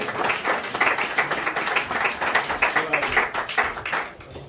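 Audience applause greets the poet Rubab Tabassum at a mushaira evening, a dense steady clapping from a crowd that swells, holds for several seconds and then fades away.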